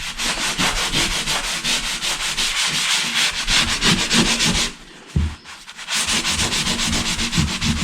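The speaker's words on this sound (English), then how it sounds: "We'll take our little sponge and feather it out." A sponge rubs back and forth over a sheetrock wall patch to feather and smooth its edges, making close, rhythmic scratchy strokes with a brief pause midway.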